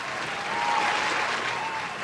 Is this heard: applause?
yes